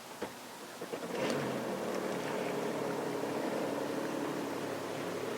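A Deluxe Waverunner jet ski idles in forward gear on the water, a steady, fairly faint engine drone with a brief stir near the start and no talk.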